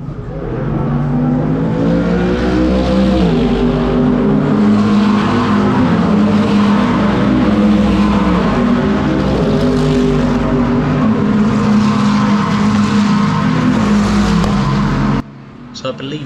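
GT race cars at Donington Park in the British GT championship roar past in a dense pack, loud layered engine drones shifting pitch continuously for about fifteen seconds before cutting off abruptly near the end.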